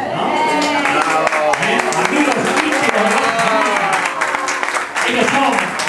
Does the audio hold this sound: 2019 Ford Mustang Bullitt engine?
no